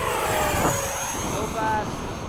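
An Eflite 80mm F/A-18D RC jet makes a fast, low pass at the flying field, a steady loud ducted-fan roar with a rising and falling whine as it sweeps by close.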